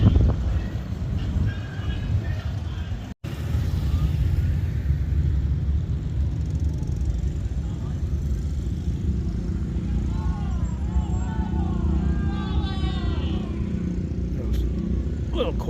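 Traffic from a highway near Sturgis produces a constant low rumble of passing vehicles that lasts throughout, with faint chirps appearing later over the steady drone.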